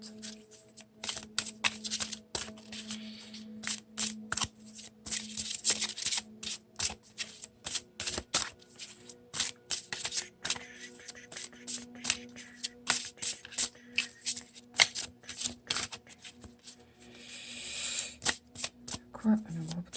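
Oracle cards are shuffled in rapid, uneven bursts of papery flicks and taps, quiet and close, with a low steady hum underneath and a brief rustle near the end.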